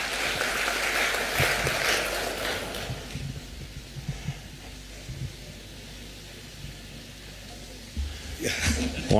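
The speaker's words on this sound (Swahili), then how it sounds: "Tumpigie Rais makofi kwa hiyo kazi." Audience applause for President Ruto at the signing of the Affordable Housing Bill, a loud dense patter of clapping over the first three seconds that fades into quieter crowd noise and murmuring.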